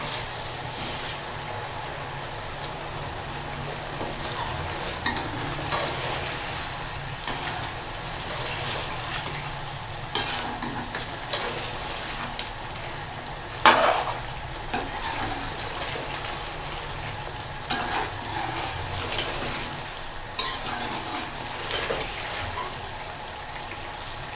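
Ground spices for chicken korma are stir-fried in a pan, giving a steady loud sizzle with repeated spoon scrapes and occasional sharper knocks against the pan, close and continuous with no talking.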